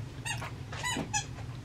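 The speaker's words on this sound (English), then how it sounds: "gonna squeak her toy while we're eating" A dog squeezes a squeaky toy, giving three bright, close squeaks in quick succession over a low steady hum.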